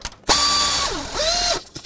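A ratchet tightens the alternator bracket bolts on a 1997-2003 Ford F-150 with the 5.4L two-valve engine. It gives one loud, close burst of rapid clicking with a whirring, pitch-shifting tone, then stops.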